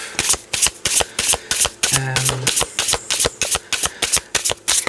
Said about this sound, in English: Am I shuffling that really loudly?